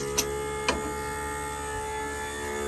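A greenhouse electric water pump hums steadily close by, with a couple of brief clicks near the start and no voices.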